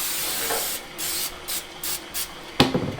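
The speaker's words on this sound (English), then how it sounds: "So just spray your pan just lightly." Cooking spray misted lightly onto a baking pan for cinnamon roll bread pudding, heard as several short hissing bursts in a row, close and fairly loud, followed by a clatter at the end.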